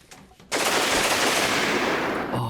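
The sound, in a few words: MG34 machine gun firing in the video game Rimworld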